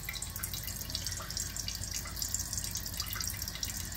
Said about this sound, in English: Okay, so it's refilling. You can see how it's filling in there.